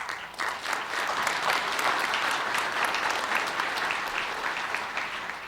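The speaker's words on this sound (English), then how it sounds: "Please give yourself a round of applause." An audience at an Atlanta police recruit graduation ceremony applauds in a steady, even burst of clapping that fills the hall, moderately loud and without voices over it.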